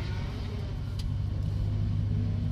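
Low, rumbling engine noise from a drift car idles and revs steadily nearby, a deep throaty drone that lasts the whole moment without pause.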